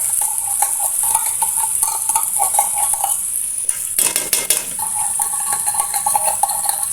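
Canned pork giniling stirred in a pan with a metal utensil, scraping and clinking steadily against the pan over a soft sizzle, close and continuous with a brief louder burst of frying partway through.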